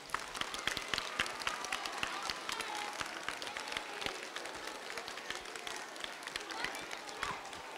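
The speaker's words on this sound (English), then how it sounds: "let's give them, all of the teachers, a round of applause." Students at a school pep rally applauding their teachers, a dense, sustained burst of crowd clapping with cheering voices mixed in, loud and continuous throughout.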